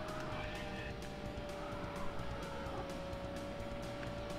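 A car in The Need For Speed on Sega Saturn skids out of control after a handbrake tap, a steady engine drone with tire squeal running continuously underneath, no talk.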